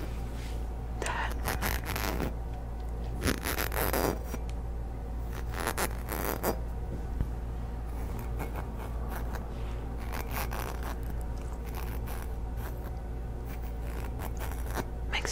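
Christmas ornaments are handled up close in a quiet room, giving bursts of crinkly scraping and rubbing with short pauses between them, soft and intimate throughout.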